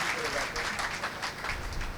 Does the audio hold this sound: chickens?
no